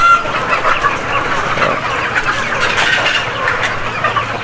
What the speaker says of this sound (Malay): Yang ni ayam Mardi.